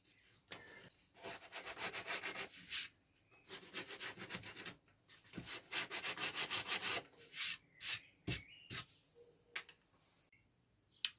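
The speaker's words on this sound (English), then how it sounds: "Just a bit of sandpaper, just to smooth it down and get rid of those little knobblies on the back" Sandpaper rubbed by hand over the back of a plywood scroll-saw cutout, smoothing rough bits in repeated short bursts of scratchy strokes with brief pauses between, close and clear.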